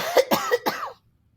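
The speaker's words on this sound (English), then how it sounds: "hang on, I'm going to cough" Four quick, close coughs in a row, then silence.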